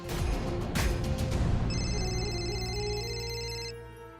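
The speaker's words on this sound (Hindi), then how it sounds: "रजनी वर्मा का कॉल आ रहा है।" A phone in a Hindi TV drama scene rings with an incoming call, a steady electronic ringtone sounding close over a low background music bed, with no talk during the ring.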